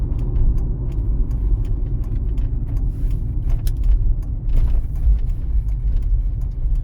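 A car on a driving-test route in Pereiaslav slows down with its right turn signal on, giving a steady low engine and road rumble with faint scattered ticks over it, close and without talk.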